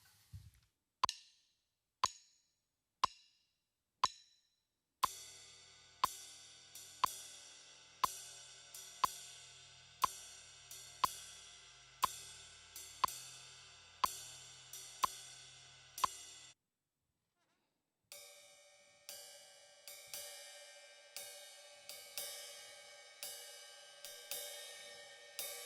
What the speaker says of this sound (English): the most popular common jazz ride pattern